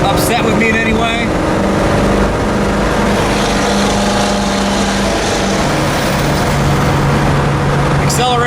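A Pontiac car engine drones steadily while driving, its exhaust a low rumble with road noise, and brief voice sounds at the start.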